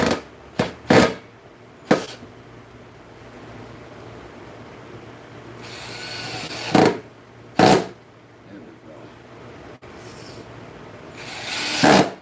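Power drill driving 1 5/8-inch drywall screws into wood: short, separate bursts of whirring, close by and fairly loud, with quiet gaps between them.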